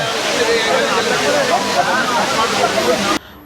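Courtallam main waterfall at night, with people bathing beneath it: a loud, steady roar of falling water with crowd voices mixed in, ending abruptly.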